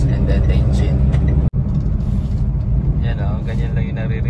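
A Toyota Wigo running on its stock muffler gives a steady, loud low rumble of engine and rolling wheels from inside the car, with a momentary dropout midway.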